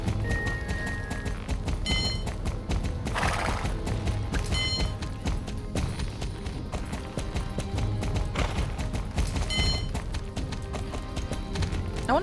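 A horse in the Star Stable video game walks with steady clip-clop hooves at a regular rhythm, with occasional short neighs over the footfalls and background music.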